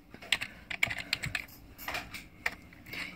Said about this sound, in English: So I'm going to type in my password